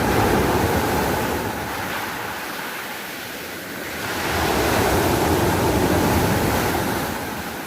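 Waves of the Tyrrhenian Sea breaking on the shore in Basilicata, Italy, a steady loud surf roar swelling and easing, with wind buffeting the microphone and no voices.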